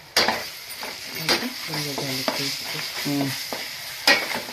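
Sautéing small and large onions with green chillies in a pan, a steady sizzle broken by scraping stir strokes, with a low voice speaking intermittently underneath.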